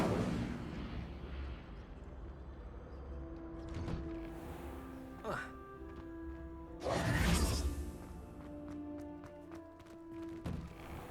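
Incendio fire spell cast in Hogwarts Legacy during a class, with a couple of sharp whooshing fire bursts, the second louder and longer, over a low rumbling game background with faint chiming tones.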